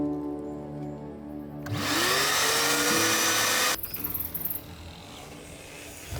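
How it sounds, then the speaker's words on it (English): A vacuum cleaner sucking a line through a pipe at an off-grid property, its motor surging up loudly with a rising whine, then cutting down to a rougher, fluttering roar near the end. "when it does eventually start taking it, the vacuum doesn't just suck up all of it and it goes into the back of the vacuum"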